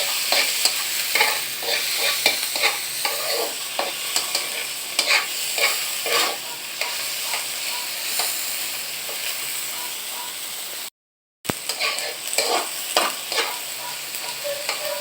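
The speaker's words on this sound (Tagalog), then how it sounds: "Ngayon, lalagyan natin itong kamatis. Ayan, gigisahin na rin natin ito." Tomatoes sautéing in a hot pan, a continuous close sizzle and hiss with steady stirring scrapes, briefly cutting out before resuming.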